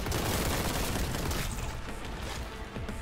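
Pump-action shotgun fire in a 90s-style Warhammer 40,000 Space Marine shooter, a dense burst of loud blasts and explosive noise that thins out halfway through into a rougher, quieter crackle.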